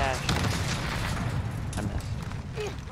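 Gunfire in Call of Duty Modern Warfare on hardcore mode, a dense, steady run of shots and booms packed into a continuous wash of battle noise at moderate loudness, with voices mixed in.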